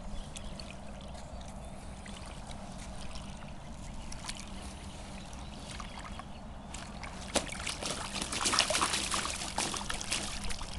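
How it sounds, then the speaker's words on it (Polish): A 6.5 kg grass carp is let back into the water at night on a carp-fishing outing, giving soft splashing, trickling and dripping water sounds close by that swell into a louder burst of splashes near the end. "kolejny amurek trafia do wody oczywiście"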